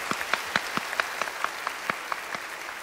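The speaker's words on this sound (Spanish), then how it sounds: "Un aplauso para eso." Sparse, scattered clapping from a small audience, a few distinct claps in an uneven rhythm, fairly faint with no talking.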